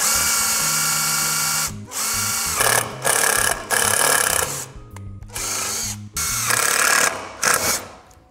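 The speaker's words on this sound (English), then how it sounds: "we actually snapped the drill bit" Power drill boring holes through a scooter deck to fit deck pins, with repeated loud whining bursts broken by short pauses, close up and with no talk.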